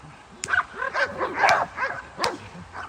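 German shepherd dogs bark and yip repeatedly during training, several sharp, fairly close barks in an uneven rhythm with some whimpering between them.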